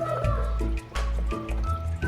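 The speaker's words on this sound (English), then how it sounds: "Alright, so I'm gonna water it now." Water is poured from a container into the soil of a freshly potted Philodendron melanochrysum plant, giving close, uneven splashes and gurgling drips that stop and start over a couple of seconds.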